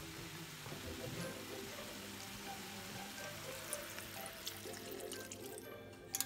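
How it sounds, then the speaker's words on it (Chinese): Water pours into a pot of chicken and ratatouille, a steady close splashing rush with a few small clinks near the end, no talking. "那这时候就是也是要把火调小一点，然后就是加水。"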